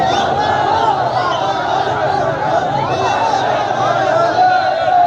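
Noisy crowd of protesters gathered at a checkpoint in Khuiratta, Kashmir, a loud continuous babble of many overlapping voices with shouting and chatter, close and incessant.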